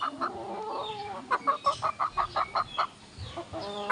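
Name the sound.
sweater pumpkin hatch gamefowl chicken clucking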